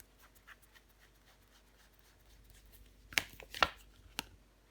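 Tarot cards are turned over on a table in a quiet room, giving three soft, close flicks near the end after faint rustling.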